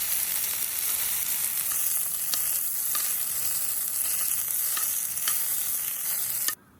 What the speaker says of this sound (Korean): 양파를 카라멜라이징 되도록 볶아주세요